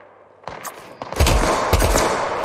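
Gunfire in a battle-royale video game: a couple of sharp reports, then a heavy burst of close, booming shots that blur into a loud sustained roar.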